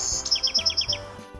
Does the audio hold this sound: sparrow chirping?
yes